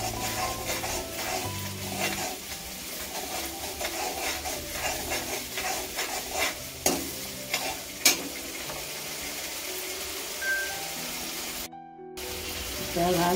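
Macaroni pasta being stirred in a pan, with steady scraping and clattering strokes and intermittent sharper knocks against the pan over a constant background hiss.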